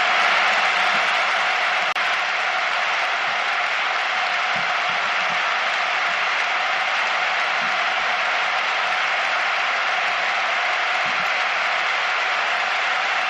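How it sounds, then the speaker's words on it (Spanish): A packed football stadium crowd at the Bernabéu roars in a long, steady ovation before a Real Madrid–Zaragoza match, a broad wash of clapping and cheering that holds at a constant level throughout. "Esta es la ovación del Bernabéu."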